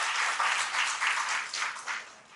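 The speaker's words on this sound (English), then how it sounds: "Please clap for them" Applause from an event audience at a hospital skills competition, a steady broadband patter of many hands with gentle swells, moderately close and lasting about two seconds before tapering off.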